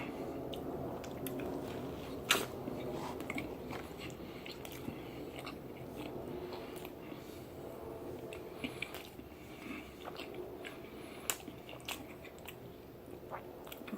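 Close, wet chewing and biting of a Jack-in-the-Box Triple Bacon Buttery Jack burger with caramelized onions and bacon butter, with soft squishy bites and occasional crunches running steadily and quietly, with no talking.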